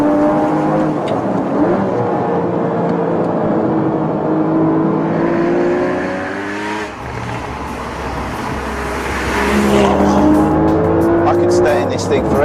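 A Porsche Cayman GTS sports car accelerates hard, its engine note rising through the revs in long sweeping pulls, close and loud with a brief dip midway, while someone talks over it.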